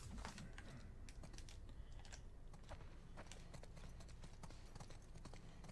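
Horse hooves clip-clop in steady, overlapping steps over a low rumbling game soundscape in The Last of Us Part II, the footfalls fairly close and continuous with no talking.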